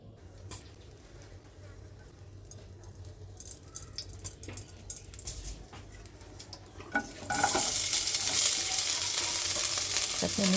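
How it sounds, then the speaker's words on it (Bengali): Onions frying in oil in a pan for a home-cooked fish dish: scattered stirring scrapes and clinks at first, then a loud, steady, hissing sizzle takes over. "তাতে আমি তেল দিয়ে পেঁয়াজগুলো ভালো করে ভেজে নেব।"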